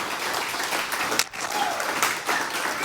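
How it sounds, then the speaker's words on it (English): An audience at a software testing talk gives a round of applause, a continuous, moderately loud wash of clapping with a brief dip partway through. "Give him a round of applause."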